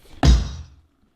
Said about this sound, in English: Tom sound,